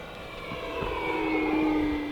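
A Hangar 9 Ultra Stick radio-controlled airplane flies overhead on a cold day, its steady motor whine rising slightly in pitch and loudness as it passes, with no voices.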